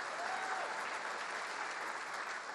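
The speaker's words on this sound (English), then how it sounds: "you can applaud that" Audience applause at a Faith and Freedom Coalition conference, dense and steady clapping from a large crowd filling the whole stretch, loud and unbroken.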